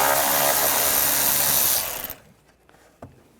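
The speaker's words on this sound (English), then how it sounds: "we're going to take this screw out right here, and there's one on the other side. Use a T25 socket." A socket tool spins out a screw on a 2009-2017 Volkswagen Tiguan during intercooler work, giving a loud continuous whirring buzz for about two seconds that cuts off and leaves faint clicks and a single knock.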